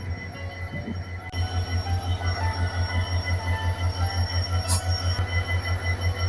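A long goods train with a locomotive fitted with two roof-mounted cooling fans, on the tracks at a station. It gives a steady low rhythmic rumble and clatter that keeps pulsing throughout, loud and close, with no talk.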